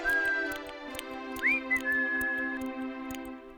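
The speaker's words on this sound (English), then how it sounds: "He was busy oiling his screws and was whistling away." A tin man in a fairy-tale bedtime story whistles a bright, sustained tune with gliding notes over a soft musical background, moderately loud and close, with no talking.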